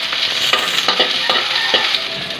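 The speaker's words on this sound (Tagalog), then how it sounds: "Ngayon na natin yung sibuyas." Onions fry loudly in a pan with a bright, steady sizzle close by. Repeated stirring strokes scrape through it in a quick rhythm.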